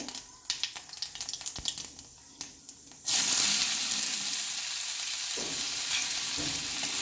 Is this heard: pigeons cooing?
no